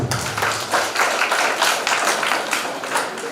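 Audience at a conference breaks into applause: a dense, steady patter of many hands clapping throughout, moderately loud and close, with a faint voice at the start.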